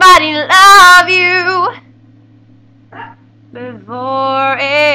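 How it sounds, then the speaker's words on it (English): A dog barks loudly in sharp bursts at the start and again near the end, with a quiet pause between, while a steady low hum runs underneath. "I apologize for Jake barking in the background"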